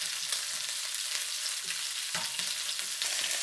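Shrimp frying in a pan for a Chinese shrimp, tomato and egg dish: a steady, close, broadband sizzle with faint clicks and small pops throughout, and no voices.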